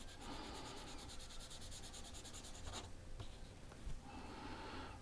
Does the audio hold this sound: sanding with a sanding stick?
yes